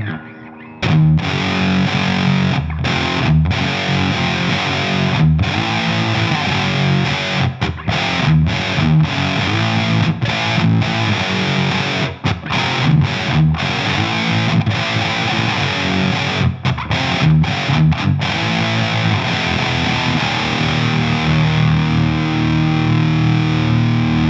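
Distorted electric guitar through a Wichcraft Model T in a Box pedal, loud and continuous, with chords and riffs that run nearly without a break.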